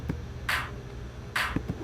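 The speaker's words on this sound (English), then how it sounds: "These are your typical drop claps" Two bright, noisy drop-clap hits in an electronic dance remix, spaced just under a second apart, each with a short smeared tail, standing alone over a faint low thump and a few soft knocks.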